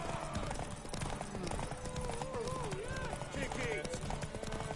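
Horse hooves gallop in The Witcher 3 video game, a steady, fast clip-clop running throughout under voices, with tonal game sounds layered on top.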